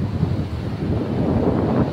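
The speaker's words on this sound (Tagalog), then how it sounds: "maalon ang tubig ng dagat" Rough, choppy sea waves wash steadily onto the seashore in an unbroken roar, mixed with wind buffeting the microphone.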